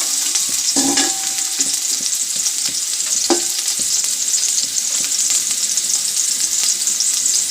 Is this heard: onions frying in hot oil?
yes